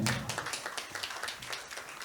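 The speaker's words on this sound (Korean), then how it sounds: "다시 한번 큰 박수 부탁드리겠습니다" An forum audience in a lecture hall gives a short round of applause for a keynote speaker, scattered claps rising and fading over a couple of seconds with no voices.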